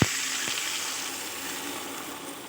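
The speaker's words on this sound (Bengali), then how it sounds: "জল অ্যাড করে দেব" Water poured into a pan of sizzling spiced potatoes with kasuri methi for a thin fish curry: a sharp hissing burst at the start that settles into a steady sizzle, with no voices.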